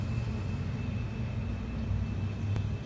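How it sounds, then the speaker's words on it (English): A freight train approaching near a rail line in Cornelia, Georgia, rumbling as a steady, loud low drone that holds throughout, with a faint high whine above it. "Oh, I hear a train coming."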